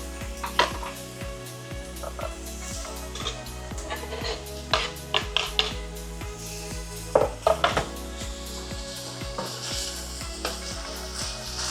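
Steady sizzling of garlic frying in a pan, with occasional clinks and scrapes of a utensil stirring against the metal.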